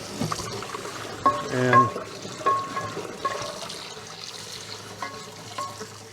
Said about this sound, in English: Now, I'm just going to kind of rinse this salt out.